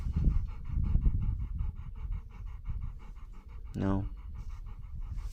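A dog pants loudly and rhythmically up close, quick breaths in steady succession, with a brief whine midway and a voice speaking over it.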